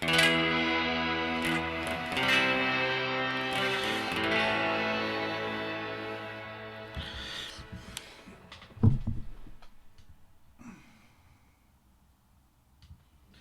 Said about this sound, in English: it's on a kind of bloom reverb at the moment